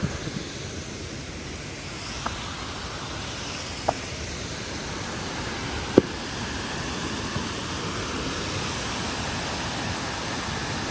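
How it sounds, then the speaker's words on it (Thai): Steady roar of a waterfall in Laos fills the air with constant broadband rushing water, heard alone with a few faint clicks and no talk. "บรรยากาศ รอบรอบน้ำตก"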